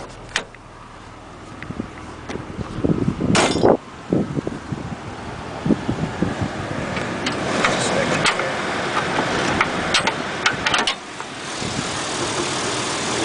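A car engine idles steadily with the hood open, a low continuous running hum under wind buffeting on the microphone and a few bumps and knocks.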